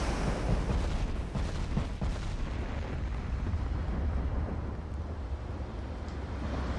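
Battleship naval gunfire from the video game Ultimate Admiral: Dreadnoughts, Montana-class ships firing: heavy booming salvos early on that settle into a rolling, rumbling wash of distant cannon thunder and sea noise, with no voices.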